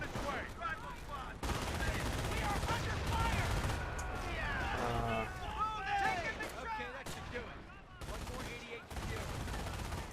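Bursts of machine gun fire and rattling gunshots in the World War II strategy game Company of Heroes, a D-Day battle, heard loud and dense throughout amid other combat noise, with no talking.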